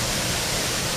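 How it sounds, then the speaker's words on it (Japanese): Steady, dense roar of the three-tiered Sanju waterfall in a wooded gorge at Kitakawachi, Noto town, Ishikawa, loud and unbroken, with no other sounds. "ああ、確かに滝だ。"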